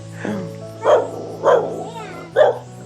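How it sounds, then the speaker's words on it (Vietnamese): A dog near a home barks three or four times in short, loud yips spaced under a second apart, over a steady low hum, with a person speaking faintly at the start. "ai ra đuổi chó cho chú nào"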